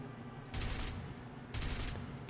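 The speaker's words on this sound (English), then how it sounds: "He gets some shots in." Aircraft guns fire in War Thunder during a dogfight against a Yak-3, two rapid bursts of gunfire about a second apart, loud and close with no talk over them.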